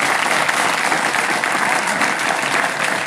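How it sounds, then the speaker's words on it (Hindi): A seated crowd of young people and students at a program applauds steadily and loudly in a short, continuous burst, with no speech over it. "आज इतना अच्छा प्रोग्राम हो और आप सभी ताली ना बजाएं तो फिर फायदा है क्या"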